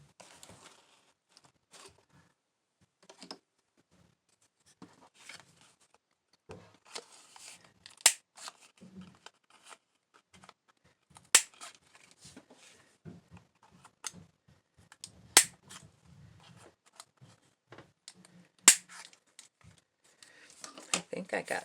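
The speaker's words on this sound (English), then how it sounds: "Okay, corner rounder." A corner rounder punch trimming paper corners, sharp isolated clicks and snaps spaced every few seconds, close and crisp against near silence, with handling rustles between them.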